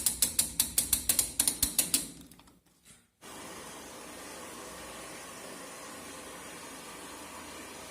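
A repaired Zanussi Ideal automatic washing machine starts with a quick series of about a dozen sharp ratcheting clicks from its timer mechanism, then a pause and a steady hissing rush of water inflow running on alone.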